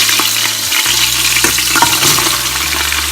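Meat and onions for Moroccan couscous sizzle loudly in a pan, a close, continuous crackling fry with small pops and a low steady hum underneath.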